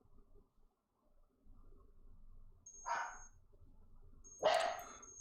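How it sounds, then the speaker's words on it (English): A dog barks twice in the background during a gaming stream, two sharp, fairly loud bursts about a second and a half apart over a quiet room hum. "Your dog's barking again, man."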